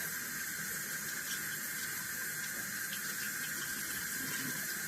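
Warm water runs steadily from a tap in a continuous hiss, used to rinse store-bought rose stems that have mold on them, with no break in the flow.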